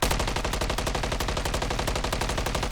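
Rapid automatic gunfire in the video game Call of Duty: Modern Warfare III zombie mode rattles nonstop, a loud, dense stream of shots in a steady rhythm, heard alone.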